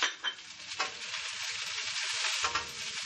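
Garlic slices and chili hitting hot peanut oil in a preheated wok over high flame, a loud, even close-up sizzle with a few sharp bursts, no voices.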